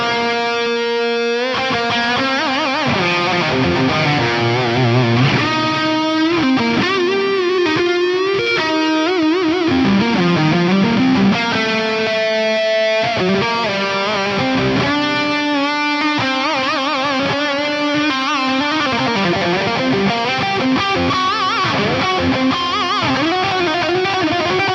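Electric guitar lead played through an Axe-Fx III with an Archean Bright amp, chorus and hall reverb, distorted sustained notes with bends and vibrato, loud and close, phrases with brief pauses, no talking.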